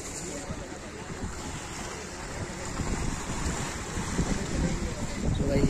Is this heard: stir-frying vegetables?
no